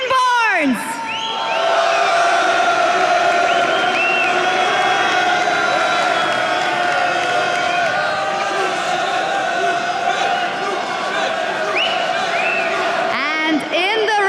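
A live esports arena crowd at a League of Legends match roars and whoops continuously for many seconds, loud and sustained, with an announcer's amplified voice ringing over the cheering.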